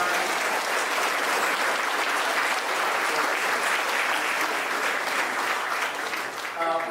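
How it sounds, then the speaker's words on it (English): An audience at a high school alumni recognition event gives loud, dense applause for band and choral students, holding steady for several seconds before easing slightly at the close. "How about a round of applause for our band and choral students tonight?"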